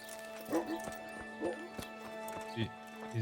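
A horse in the medieval video game Kingdom Come: Deliverance clops its hooves on the ground in a few quiet, spaced steps against soft game ambience, with a faint whinny.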